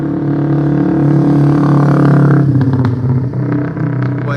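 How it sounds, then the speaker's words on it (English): An old school motorcycle engine runs loud and close with a steady low throb, then the tone breaks up into rougher, uneven revving pulses toward the end. "I got an old school motorcycle"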